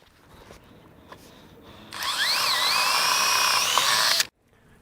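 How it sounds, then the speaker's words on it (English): A power drill bit whirs loudly and steadily as it bores out propolis-clogged holes in a wooden beehive, its pitch rising and wavering for about two seconds before cutting off abruptly, with quiet background before. "run this drill bit into all these existing holes, because there'll be propolis in there and it'll be clogged up"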